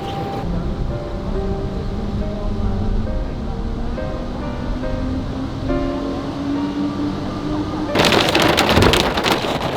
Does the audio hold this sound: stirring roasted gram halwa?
no